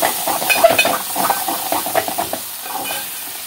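Brinjal curry stirred in a pan as the softened eggplant pieces cook, giving a steady close hiss and sizzle broken by scraping spoon clicks and soft knocks, with no one talking.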